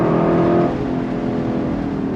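Exhaust of a 2024 Lexus LC500 Bespoke Edition V8 under throttle, a loud, steady close engine drone with a dense low rumble and a slight drop in level partway through, no speech.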